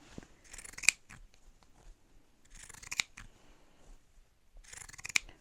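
Three crisp snips of shears cutting fabric for a scrunchie wristlet, spaced a couple of seconds apart, close and quiet, with faint rustling between.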